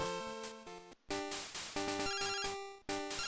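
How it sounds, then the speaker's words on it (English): A chiptune phone ringtone from Pokemon Silver plays in repeated bright electronic bursts, loud and clear, with short gaps between rings. "Uh-oh, our first phone call from someone else."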